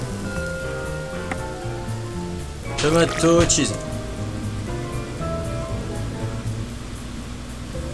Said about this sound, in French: Ça y est, il pleut.